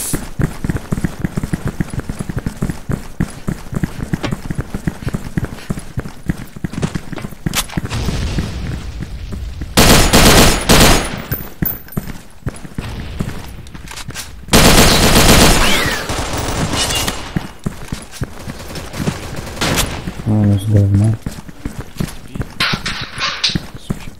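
Rapid gunfire and loud blasts in a shooter video game, dense bursts of shots with heavier booming stretches, close and loud throughout with no talk.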